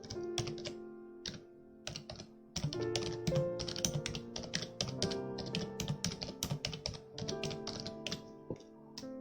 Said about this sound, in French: Parce que si je tape du texte,